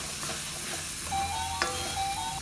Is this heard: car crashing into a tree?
no